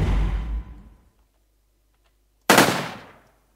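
Full-auto weapon fire in an Unreal Engine 4 video game: two loud, dense bursts, each trailing off quickly, separated by a stretch of near silence.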